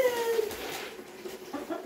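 A chicken indoors gives a few soft clucks and short calls close to the microphone, quiet between the sounds.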